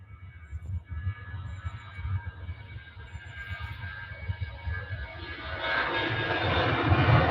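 Jet2 airliner engines at Manchester Airport, a low rumbling roar that swells steadily louder and brighter as the jet spools up, heard alone without talk.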